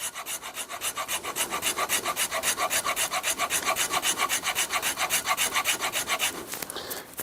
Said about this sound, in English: with the rasps and files, it's not too horrible